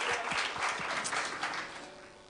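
Applause from a church congregation during a sermon, a dense, steady wash of many hands clapping that fades slightly toward the end.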